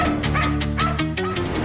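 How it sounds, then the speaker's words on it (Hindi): A pet dog barks again and again in a house in a crime drama scene, several quick close yips and barks in a rapid string with a whimpering edge, loud and with no one talking. "इसीलिए पिया का वो कुत्ता बार बार भौंक रहा था।"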